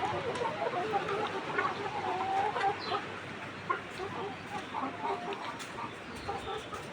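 Hens at a layer farm cluck and murmur continuously in hot weather, a busy flock close by with scattered louder calls over a steady background hum.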